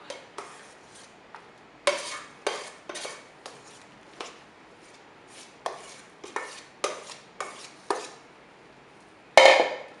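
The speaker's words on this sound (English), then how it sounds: "So we're just gonna dump it in the pan and even it out." A mixture dumped into a pan and spread out, heard as a series of separate scraping and tapping strokes of a utensil against the pan, spaced irregularly, with a sharper knock near the end.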